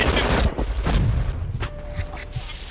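Sustained rapid gunfire from a ship-mounted machine gun in the shooter game Brink, loud and continuous with dense bursts and booms, a brief whine partway through, and a voice speaking over it.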